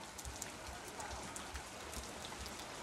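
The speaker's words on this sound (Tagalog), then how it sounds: "Hindi kami makapagsimula kasi umuulan ng malakas." Heavy rain pours steadily onto surfaces outdoors, a dense, even hiss with scattered louder drips and splashes, fairly faint and uninterrupted throughout.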